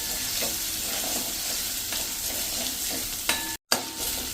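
A steady, soft sizzle of a paste cooking in a pan on low flame, with a couple of light scraping stirs and a brief break near the end.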